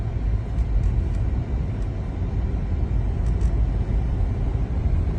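A 2012 Rolls-Royce Ghost accelerating on a road, heard from inside as a smooth, steady low rumble of engine and tyre noise without distinct gear changes.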